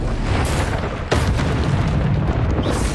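A Confringo fire spell is cast in the Hogwarts video game, landing as a loud booming blast with a sharp burst and rumbling tail over dense game noise.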